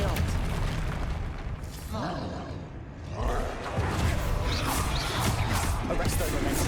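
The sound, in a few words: Confringo spell blasts in the video game Hogwarts Legacy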